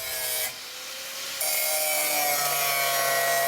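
Saw cutting a corner out of a Jeep FSJ half door panel, a steady rasping cut that starts loud, eases briefly, then resumes more strongly and continues close up without talk.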